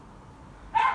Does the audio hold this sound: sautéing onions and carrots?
no